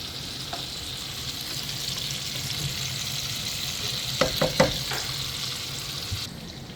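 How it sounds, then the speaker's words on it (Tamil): Jackfruit curry sizzles steadily in a pot, a soft continuous frying hiss with a quick cluster of spoon or ladle scrapes and knocks near the end as it gets stirred; no talk. "மிக்ஸ் பண்ணிவிட்டு இது நல்லா அவியட்டும்"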